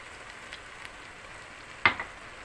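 Walnuts tipped into a pan of fried onions: a steady low sizzle, then a sharp clatter as the nuts land, followed by a brief burst of louder frying.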